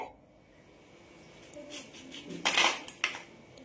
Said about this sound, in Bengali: তো তেলটা ঝরিয়ে নেওয়ার পর এবার আমি নাস্তাগুলোকে তুলে নেব।